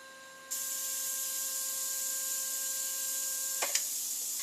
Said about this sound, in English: now I've reached the point that the valve here is releasing pressure